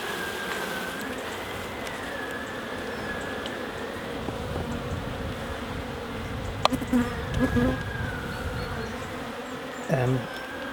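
Dense, steady buzzing of many honey bees around a hive fills the air close by, with occasional soft knocks and handling noises as bees are shaken off a frame.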